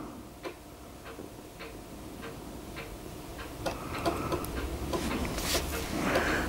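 An IBM 5140 PC Convertible laptop booting up, giving off soft, regular ticking clicks that repeat about twice a second at close range, with a faint hum underneath and a few busier mechanical clicks near the end.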